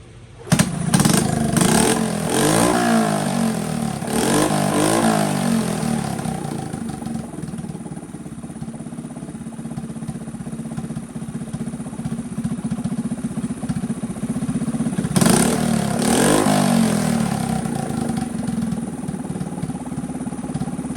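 Honda CT70 motorcycle engine idling close by as it warms up, a steady putter with a couple of brief throttle blips near the start and again midway.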